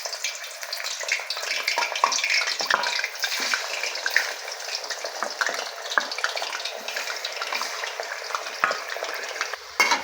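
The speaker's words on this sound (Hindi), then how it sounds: "दोस्तों इसको हाई फ्लेम पे हमने फ्राई करना है।" Chicken frying in hot oil over a high flame, with a loud, continuous crackling sizzle broken by frequent stirring scrapes close by, and no talking.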